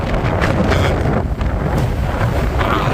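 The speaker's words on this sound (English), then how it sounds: "It's too windy out there to talk." Strong outdoor wind buffets the microphone in rough, continuous rumbling gusts that are loud and close throughout, with one brief dip partway through.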